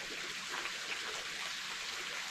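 Carmelita Waterfall, a barrel-shaped fall in Central Trinidad, pours steadily in a broad, even rush of water with no breaks, close and constant throughout.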